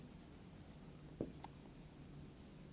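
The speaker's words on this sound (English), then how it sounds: "So let me write down." Chalk or marker writing on a board in a physics lecture hall, faint scratchy strokes over a constant background hum, with one brief tap and a short squeak, no talking.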